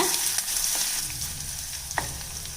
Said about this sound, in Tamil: இந்த பூண்டு கொஞ்சம் எண்ணெயில் நல்லா பொறிஞ்சு வரட்டுங்க